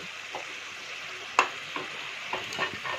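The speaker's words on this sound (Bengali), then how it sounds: "ভালো করে নেড়ে চেড়ে নিয়ে ঢাকা দিয়ে দেব" Fish head and potato muri ghonto is stirred in a pan with a few soft scraping strokes over a low, steady sizzle, close up and without talk.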